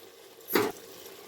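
Water splashes briefly into a pot of bottle gourd and chana dal curry, a single short pour lasting under a second over quiet kitchen background.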